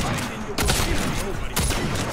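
Sniper rifle shots in the Saints Row video game, two sharp cracks about a second apart over a dense, noisy game soundscape.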